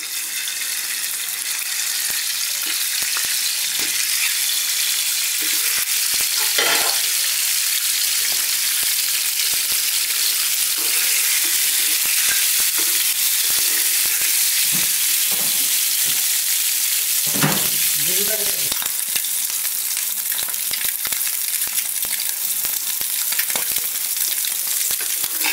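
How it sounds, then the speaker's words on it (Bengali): Eggs frying in oil in a pan, heard as a loud, continuous close sizzle and crackle, with occasional stirring scrapes and clinks, and no talking. "এখন ডিমগুলো দিয়ে দিব, ডিমটা আমি হালকা একটু ভেজে নিব।"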